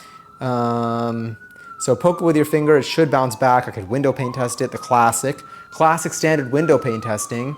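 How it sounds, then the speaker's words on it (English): Police sirens outside, a faint wavering wail rising and falling steadily behind close indoor talk while bread dough is kneaded. "Sorry about the sirens."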